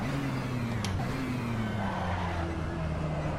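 A sports car brakes hard from speed, its engine note sliding down through the gears with a brief squeal and a light lock-up, loud and close, with someone speaking over it.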